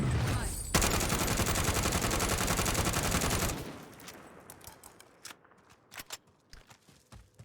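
Rapid automatic gunfire from a weapon fitted with a Vision 2x scope in Warzone rattles loud and continuous for about three seconds, then breaks into scattered single shots and clicks.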